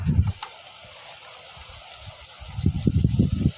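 Steady scratchy rubbing of 1000-grit sandpaper polishing a crankshaft from a Chinese engine, close and fairly quiet, with faint hissing above and low thumps now and then.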